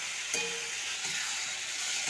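Chopped ridge gourd fries with black mustard seeds and slit green chillies in a pan, a close, steady sizzle with one faint stirring clink near the start.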